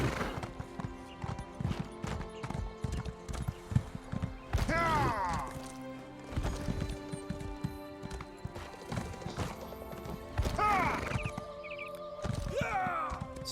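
Horse hooves clip-clop steadily in the video game Elder Scrolls Online as the mount travels, with occasional whinnies, game effects and sporadic louder bursts over a continuous background.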